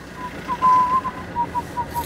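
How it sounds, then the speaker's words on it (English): A man whistles a short tune inside a Fiat Doblo Cargo van, with one longer held note and then several brief chirpy notes over low cabin rumble. "Whistling while I'm trying to film."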